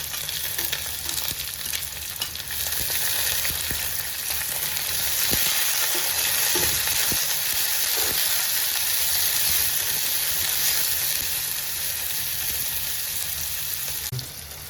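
Long-sliced onions frying in hot oil with ginger and garlic for a Sri Lankan spicy chicken curry, a loud, continuous close sizzle with occasional clicks of stirring.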